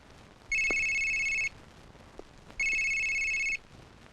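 A mobile phone rings in two loud, even electronic bursts, each about a second long, separated by a short pause, with only faint background noise between them.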